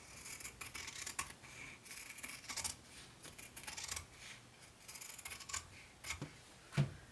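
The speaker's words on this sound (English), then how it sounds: "I'm going to go ahead and cut down that line that I drew." Quiet, close snipping and rasping of scissors working through fabric, a series of soft irregular cuts with small pauses.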